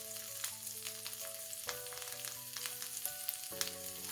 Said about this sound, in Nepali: अब यो आलुलाई पनि केही बेर यसमा फ्राई गर्नुपर्छ।